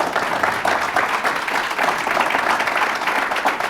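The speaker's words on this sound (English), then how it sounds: "Can I have a big round of applause for our panelists?" An audience at a sports panel discussion gives a round of applause for the panelists, continuous dense clapping at moderate volume with no talk over it.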